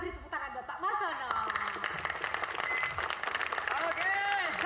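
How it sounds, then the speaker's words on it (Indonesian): A group gathered at a creative camp event claps to welcome a teacher, a brisk patter of applause mixed with cheering voices and lively chatter, with speech weaving over the clapping throughout. "Mari sama-sama kita beri tepuk tangan buat Pak Marsono."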